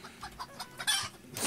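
Chickens cluck in the Farmers Life farming game, a run of short close clucks followed by louder, brighter squawks toward the end, with no talking.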